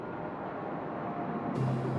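A Fragmentum monster in Honkai Star Rail gives off a steady hiss of white noise, like radio static. The sound stays loud and even throughout, and a low tone joins it near the end.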